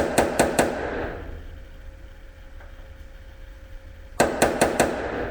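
A hammer strikes a punch to dimple a spot weld on the rusty upper cowl of a 1980 Chevy Silverado. Three quick metallic taps are followed by a quiet pause, then another rapid burst of four sharp, close strikes.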